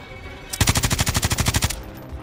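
A rapid automatic gunfire burst from Call of Duty, about fifteen evenly spaced shots in just over a second, loud and sharp, then sudden quiet with faint game ambience around it.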